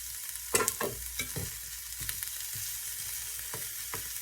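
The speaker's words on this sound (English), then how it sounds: "Go ahead and add the jalapeno here." Half a large jalapeno sizzling in a frying pan with sweating vegetables, a steady soft fry broken by stirring scrapes and taps, close and moderately loud.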